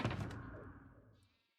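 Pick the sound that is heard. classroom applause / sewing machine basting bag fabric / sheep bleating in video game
sheep bleating in video game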